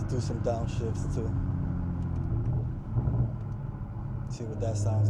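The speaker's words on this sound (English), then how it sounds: "Let's do some downshifts too." Car engine heard from inside the cabin while driving and downshifting, a steady mid-pitched rumble that swells briefly near the middle, with speech over it.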